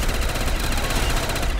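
Continuous rapid automatic gunfire in a modded zombies video game, a dense, loud, unbroken burst of rattling shots with no pauses.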